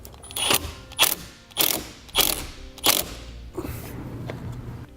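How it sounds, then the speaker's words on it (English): A ratchet wrench tightening a nut on a battery terminal stud while installing a towed-vehicle battery charge line kit, with five close, crisp bursts of ratcheting clicks in a regular rhythm followed by a softer, fainter one. "And we'll reinstall the nut. Tighten that back down."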